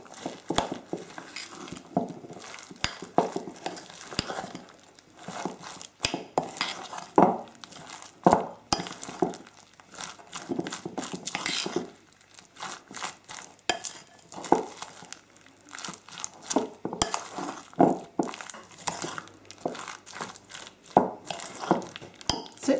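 A spoon stirs 50 grams each of chopped vegetables in a bowl, a steady run of close, busy clinks, scrapes and rustles, with no talking.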